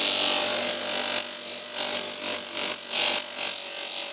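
A corroded camshaft from an old rusty engine being polished by hand, giving a steady, close rubbing and grinding hiss that surges and eases in uneven strokes over about four seconds.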